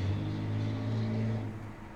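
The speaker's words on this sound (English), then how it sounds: "It was a motorcycle passing." A motorcycle passes outside as a steady engine rumble that holds loud for about a second and a half, then fades slightly as it moves away. No one speaks.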